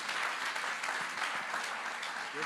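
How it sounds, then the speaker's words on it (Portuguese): A church congregation claps together throughout a Portuguese-language evangelical service, giving a dense, steady wave of applause that is fairly loud and has no speech on top. "Vamos receber a irmã Andréia com aplauso ao Senhor nesta hora."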